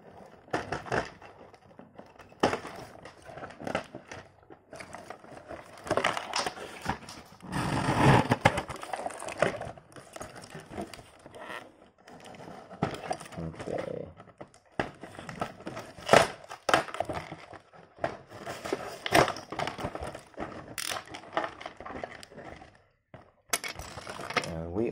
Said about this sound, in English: he's got some guns, which I have to cut out with a knife again. Because they're behind plastic.